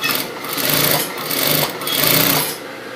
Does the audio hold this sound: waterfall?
no